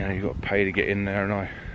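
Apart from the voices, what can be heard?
None of the usual background noises is heard.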